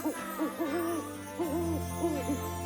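A cartoon owl gives a run of rising and falling tonal hoots, repeated in short clustered bursts, loud and close over a sustained musical drone.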